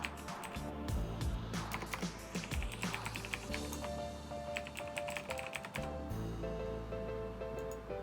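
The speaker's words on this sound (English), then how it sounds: "I'm going to go ahead and type in my password now." A password is typed on a computer keyboard while setting up Raspbian OS on a Raspberry Pi 4 8GB, a quick run of soft, close key clicks with uneven rhythm and no talking.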